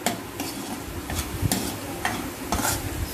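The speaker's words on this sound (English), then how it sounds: "So yeah, onions are sauteing." Onions sauté in a pan, a soft continuous sizzle broken by regular scraping strokes as they are stirred every half second or so, close and fairly quiet.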